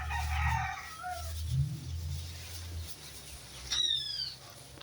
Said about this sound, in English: Bird drinking water and eating feed.